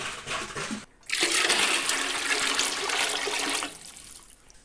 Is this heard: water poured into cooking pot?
yes